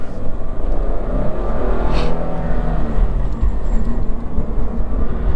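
A 2023 Subaru BRZ engine runs steadily through the clip, a continuous close-up drone of engine and road noise with no clear rise in revs or distinct gear changes.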